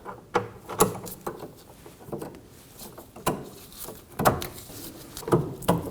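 Ratcheting wrench clicks in short bursts while the upper bolt of a rear sway bar link is tightened on a 1993-2001 Subaru Impreza, close and fairly loud with brief pauses between strokes.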